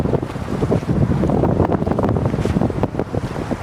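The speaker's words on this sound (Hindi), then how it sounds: "यख ठंडी हवा चल रही है यहाँ पे" Cold wind blowing hard across frozen Lulusar Lake, a steady, loud roaring rush buffeting the microphone throughout with no voices.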